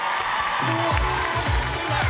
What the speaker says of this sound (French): Je voudrais qu'on applaudisse Fatou de Pérignal et Sariève.